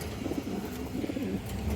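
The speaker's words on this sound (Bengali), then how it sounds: "হাই কোয়ালিটির একটা আর্মি নর কবুতর" An army breed male pigeon, large with an all-white body, coos in low rumbling bursts that run steadily through the short stretch, close by.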